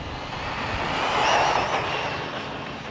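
Kyosho Sand Master 2.0 RC car with a brushless conversion running at full throttle on sand: a steady high electric whine with a broad rushing roar that swells slightly midway, with no talk.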